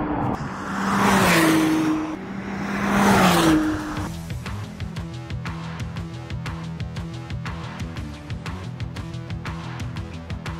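A McLaren Artura Spider, a high-performance hybrid convertible, sweeps past in two loud rising-and-falling passes, then settles into a steady rhythmic engine drone with repeated sharp clicks or pulses.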